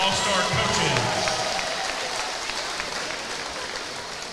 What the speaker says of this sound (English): Let's have a big round of applause for our Arkansas All-Star coaches.